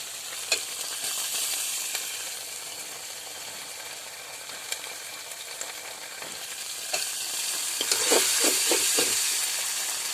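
Chicken liver fries in a pan with cumin paste while being stirred: a constant sizzle with scattered scraping strokes, growing louder and busier toward the end as the stirring picks up.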